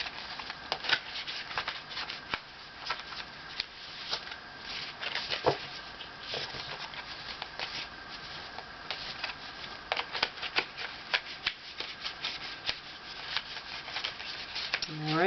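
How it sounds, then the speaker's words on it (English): Oracle cards for an animal spirit reading shuffled by hand, a steady run of crisp riffling and flicking snaps close up, with soft rustles between bursts and no talking. "Alright guys, we can shuffle."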